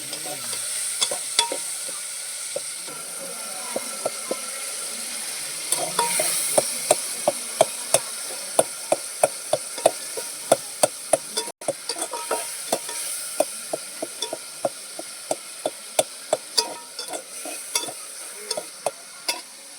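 Tomatoes and prawns fry in a pan with a continuous sizzle, while a utensil stirs and scrapes in a steady run of sharp clicks close by. No one talks.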